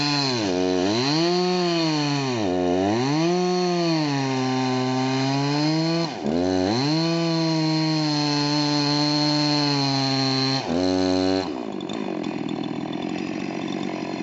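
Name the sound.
chainsaw cutting trees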